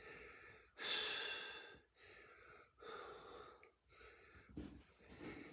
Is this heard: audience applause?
no